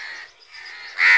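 A crow gives harsh caws while swooping at a person defending its nest, two close, loud calls with a brief dip between them and the second call sharper and stronger.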